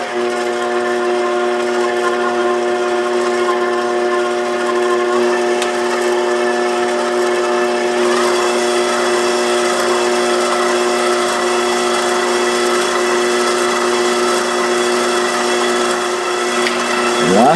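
A stand mixer running steadily and fairly loud while combining almond cream with powdered icing sugar, a constant motor whine with layered humming tones and a faint shift in texture partway through, no voices.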